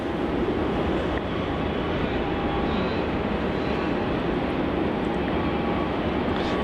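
A Virgin Australia passenger jet from Sydney arriving at Melbourne Airport: a steady, broad engine roar that stays loud and even throughout, with no voices.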